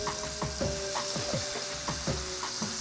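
Chicken sears in a hot pan with a steady broadband sizzle and scattered pops and crackles, close and moderately loud, with no talking over it.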